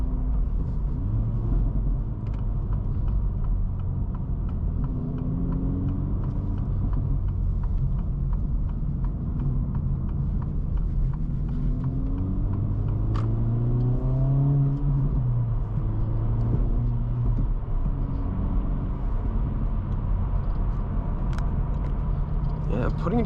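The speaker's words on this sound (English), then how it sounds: "Very loud burbles, a pretty consistent pop and tone" A 2024 Acura Integra Type S accelerates with exhaust burbles and pops. A steady low engine rumble rises in pitch through the gears, with faint crackles scattered through it while someone talks over the drone.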